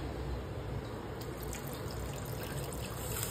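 Water pours steadily into mutton curry in a pressure cooker as a close, continuous gushing splash that lasts the whole short stretch.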